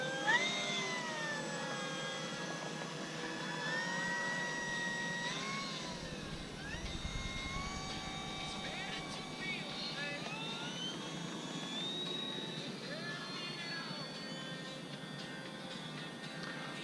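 An FMS P-51D Mustang V8 RC model plane flies overhead, its electric motor whining with rising and falling pitch as it passes near and far, steady throughout.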